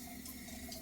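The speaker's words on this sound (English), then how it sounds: "So I'm going to flush the toilet first." A toilet flushes, a brief burst of rushing, gurgling water heard close up and alone.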